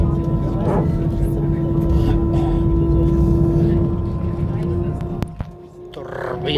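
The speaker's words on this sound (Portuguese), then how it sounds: "Turbinas aí. Acelerar e vamos embora." An airliner's jet turbines roar for takeoff on a flight home to Portugal, a loud, steady, droning cabin hum with a constant whine running through it and voices talking over it.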